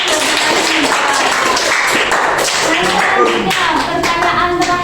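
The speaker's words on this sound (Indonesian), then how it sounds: "Sebelumnya tepuk tangan untuk Mas Wisnu" Classmates clap for a student's answer during a classroom micro-teaching lesson on economics, a brief burst of close, lively hand claps with some voices mixed in.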